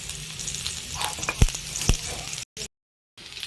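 Potatoes frying in a pan, a close steady sizzle and crackle with a few sharper pops, briefly cut to silence near the end before the frying resumes.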